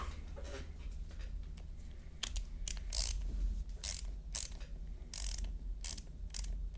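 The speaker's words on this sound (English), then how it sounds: "The ratchet mechanism feels pretty nice." Ratchet mechanism of a ball end screwdriver clicking, with irregular sharp ticks and short bursts of rapid clicks over several seconds, close and fairly quiet, with no voices.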